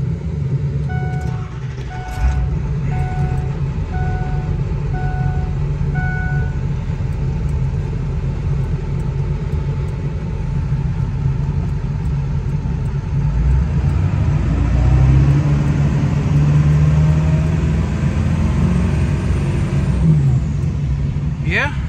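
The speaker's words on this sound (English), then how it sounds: "Let's fire the old girl up and see if we can give her some throttle" A Ford F250 pickup with a 7.3L diesel engine rumbles at idle, then revs up with rising throttle and settles back; a steady beeping sounds early on, and a voice talks over part of it.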